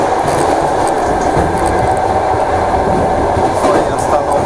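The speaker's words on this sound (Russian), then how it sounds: "Так я покидаю этот замечательный поезд." Inside a passenger train as someone gets off, a loud, steady rumble of running gear and carriage noise with faint clicks and occasional higher squeals throughout.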